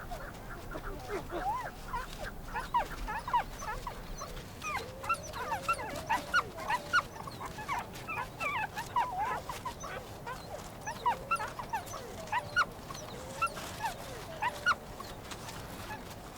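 Tibetan wolf pups whimper and yelp near their den in the Himalayas, a busy run of thin, high squeaks and whines coming in quick overlapping bursts at moderate distance.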